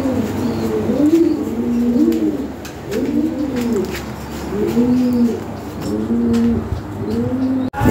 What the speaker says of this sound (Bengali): এখানে এক জোড়া কবুতর আছে ফ্রেশ মার্কিং